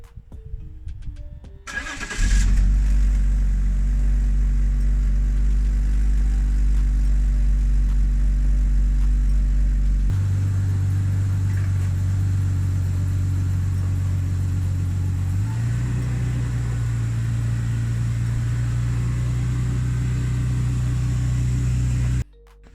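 A 2002 BMW 325xi starts up and idles with a steady low engine hum, then the tone shifts twice as it moves slowly and rolls up onto ramps, close by and continuous until the engine cuts off.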